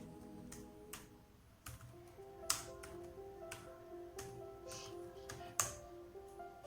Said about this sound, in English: Just type it in the keyboard to check it.